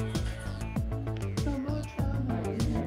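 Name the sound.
cat meowing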